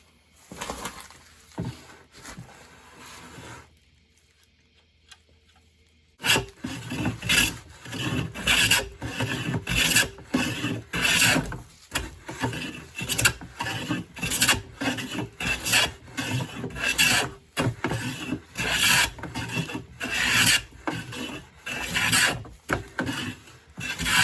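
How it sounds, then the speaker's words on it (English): A new Stanley No 5 hand plane shaves thin wispy curls from oak held in a vise, a brief pass early on, then a pause, then a long run of repeated rhythmic rasping strokes, close and fairly loud. "taking wispy little shavings of our oak"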